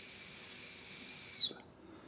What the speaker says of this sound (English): Many running packs come with a built-in whistle, although these can leave something to be desired.